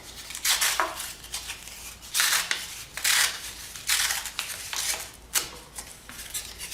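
Paper is pulled off foam core board, heard as a series of rough tearing and crackling bursts, close and fairly loud. The peels come in irregular pulls separated by short pauses.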